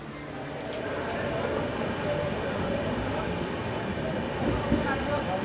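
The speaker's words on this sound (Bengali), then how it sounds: "আমাদের ট্রেন ব্রহ্মপুর স্টেশন ছাড়লো" Amravati Express train rolling out of Brahmapur station, a steady, continuous rumble of wheels and carriage noise heard from inside, moderately loud and even throughout with faint clicks.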